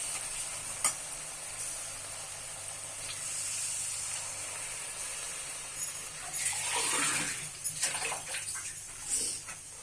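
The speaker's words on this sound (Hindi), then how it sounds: "अब इसमें मैं पानी डालती हूँ।" Tomato and onion masala sizzles in a pan for an egg curry, then water is poured in with a rushing splash and a louder hiss of steam and bubbling near the end.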